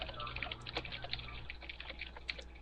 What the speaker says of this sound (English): You're typing mad crazy.